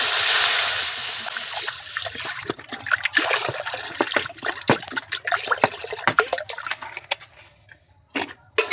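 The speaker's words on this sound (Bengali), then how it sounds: "কড়ার মধ্যে দিয়ে দিচ্ছি জল।" Water pours into a wok on a stove while cooking jackfruit, a loud close splashing stream that trickles off into drips and a final burst of pouring, with no talk.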